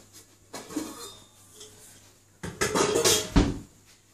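Getting a bowl out in a home kitchen while making meatballs, with a couple of close bursts of dishes and ceramic clattering against each other and a quieter knock in between.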